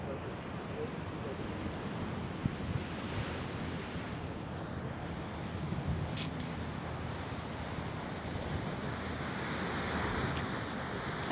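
Ocean surf at Biarritz, France, forms a continuous broad wash of breaking waves, steady and somewhat distant. Wind buffets the microphone throughout.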